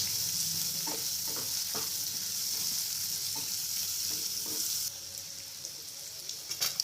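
Spices sizzle in hot oil in a pan for kantola curry, with red chilli and turmeric stirred in. A steady, close frying hiss runs throughout, with light scraping taps from the stirring.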